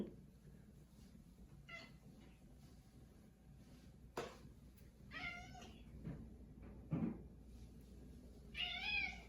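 A hungry cat meows several times, quiet and fairly close, its cries spaced out across a soft indoor background.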